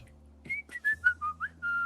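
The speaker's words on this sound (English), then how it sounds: "if you can hear the whistle" A person whistles a short tune, a string of clear sustained notes stepping between pitches, close and alone without talk.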